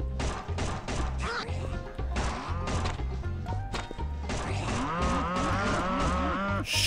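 Cow mooing in the Stickman Zombie video game, long drawn-out lowing calls heard repeatedly over a driving game music track with sharp thuds.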